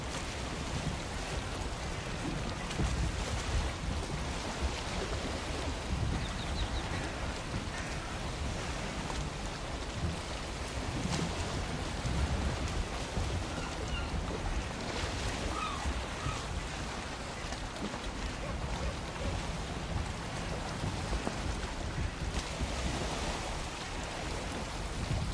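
A Viking longboat sails over rough waves in Valheim, with a steady, loud wash of water and wind rushing continuously throughout and no voices.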